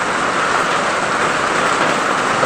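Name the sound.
rain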